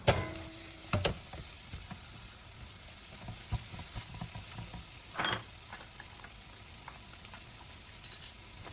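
Luffa gourd and scrambled eggs stir-fry in a pan with a soft continuous sizzle, punctuated by a few sharp clicks and scrapes of a utensil against the pan, close and fairly quiet.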